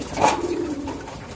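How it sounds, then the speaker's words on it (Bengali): A pet pigeon gives a short, soft cooing call close by, a single low throaty phrase. "এই যে দেখতেছেন এইটা হইলো আমার বন্ধু কবুতর"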